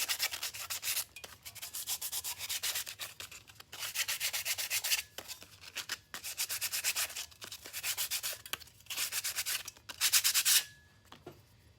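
Hand sanding galvanized aluminum with a small piece of sandpaper, close raspy back-and-forth rubbing strokes in repeated rhythmic bursts with short pauses between them, no speech.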